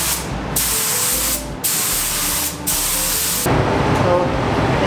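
An aerosol spray can lays clear coat onto plastic lenses from vintage Japanese police lights, loud close hissing in four sustained bursts separated by short pauses.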